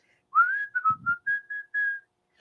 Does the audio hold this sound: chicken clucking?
no